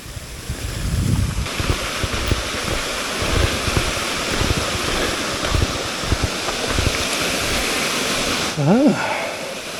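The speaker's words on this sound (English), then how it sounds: "Waterfall." Waterfall at Wind Wolves Nature Preserve, a steady broadband rush of falling water heard from nearby, continuous throughout, with a brief voice sound near the end.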